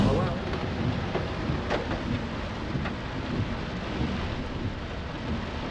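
Steady rain falls on a farm with rolls of thunder rumbling underneath, a constant wash of drops with some sharper taps, heard alone without talk.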